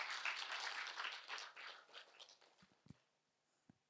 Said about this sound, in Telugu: గట్టిగా చప్పట్లు కొడదాం ధ్యానానికి ఒకసారి